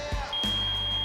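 A workout interval timer buzzer sounds as a sustained, steady electronic tone, starting after a brief softer blip and holding clear and loud to the end.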